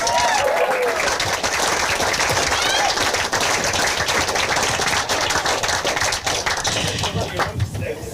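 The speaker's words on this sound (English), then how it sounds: "Let's give him a round of applause." Wedding guests break into dense, continuous clapping after a speech, a loud, close crowd applause that fills the room and carries on without pause.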